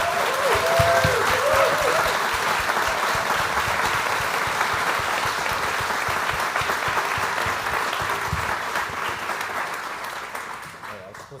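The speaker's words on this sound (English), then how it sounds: "if I could have one round of applause for Nolan, but also their family" An audience applauds Nolan, the first Neuralink brain-implant recipient, and his family; a long, full round of clapping from a crowd that starts strong and gradually thins and fades toward the end.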